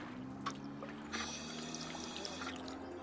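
Flowing water in the Nancy Drew game Danger by Design, set in Paris: a soft, faint trickle and pour under a low hum, brightening into a steadier splashing stream midway.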